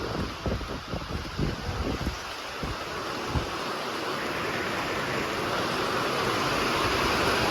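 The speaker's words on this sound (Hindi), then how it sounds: "बढ़िया बारिश शुरू हो गई है" Heavy rain begins to pour in extreme weather, a dense, steady hiss filling the scene after a few irregular knocks early on, growing slightly louder and more even.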